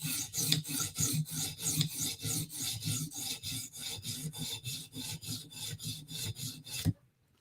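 Steady, even strokes of a Spyderco Native knife blade rasping across a sharpening stone, a close, rhythmic scraping repeated about twice per second that stops abruptly near the end.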